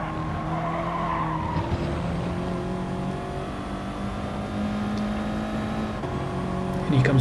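An Audi TT races in Gran Turismo Sport, its engine holding a steady, droning note with shifting pitch while tires skid and scrub throughout, loud and continuous with no talk.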